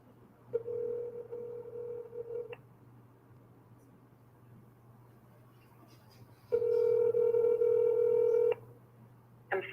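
Telephone dialing tones from a phone call, two long steady tone bursts separated by a pause over a faint constant hum, loud and close, with a brief start of a third tone at the end.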